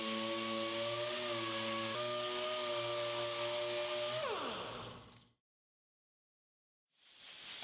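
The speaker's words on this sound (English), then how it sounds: "Next, sand with 80 grit sandpaper." A power sander with 80 grit sandpaper whirs steadily on a car bumper during a cosmetic repair, holding a tonal hum with small pitch shifts before spinning down into silence, then a fresh burst starts.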